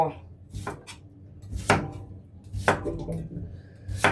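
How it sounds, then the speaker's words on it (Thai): A knife chops through firm papaya on a board in several separate strikes, each a sharp crisp crack, with faint kitchen noise between them. "ก็จะมาหั่นมะละกอ"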